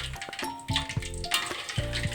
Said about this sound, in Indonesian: di sebelah ini saya lanjut pengen goreng pisangnya.